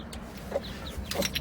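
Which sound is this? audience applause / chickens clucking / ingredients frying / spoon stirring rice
chickens clucking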